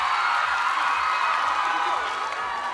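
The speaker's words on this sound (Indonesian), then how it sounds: "Tepuk tangan buat Kyuhyun boleh teman-teman" A large audience at the Indonesia's Got Talent Grand Final applauds and cheers for Kyuhyun, a loud, dense roar of clapping and crowd noise that stays steady throughout.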